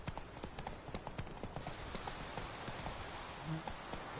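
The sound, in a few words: Roach the horse galloping, from video game The Witcher 3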